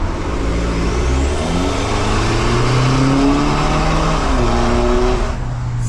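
A BMW F10 diesel with an aftermarket Euro Arts exhaust revs loudly nearby, its throaty exhaust rumble climbing and holding in pitch for several seconds before cutting off, heard from outside the car.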